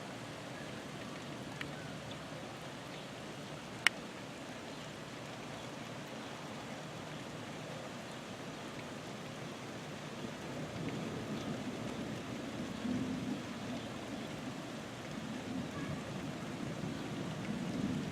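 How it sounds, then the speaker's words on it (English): Steady rain hisses without a break and grows gradually heavier toward the end, with a single sharp crack early on and no clear rolling thunder. "Raining a little harder now."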